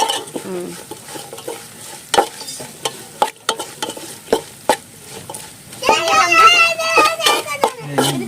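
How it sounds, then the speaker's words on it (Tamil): Crushed crab masala of cumin and pepper sautéing in oil, close sizzling with repeated scraping and tapping of a spoon on the pan, while children's voices and talk come through in the background. "அதையுமே நல்லா வதக்கி விட்டுக்கலாம். கண்டிப்பாக ஆயில் ஊற்றிங்க"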